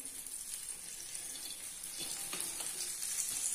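A sweet fasting dosa pancake fries in a little oil on a pan, giving a steady, soft hiss and crackle with a few brief sharper pops near the end.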